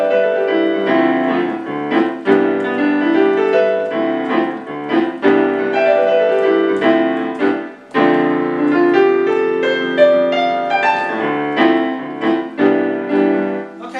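Jazz piano vamps through three chords and a couple of scales in rhythmic patterns, with sustained chord stabs and running scale lines, played solo and close with no talking.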